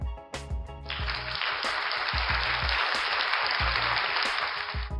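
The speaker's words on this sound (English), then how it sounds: "That applause is for him." Applause swells in over a thumping music track, a broad even wash of clapping running under the steady beat for several seconds before fading near the end.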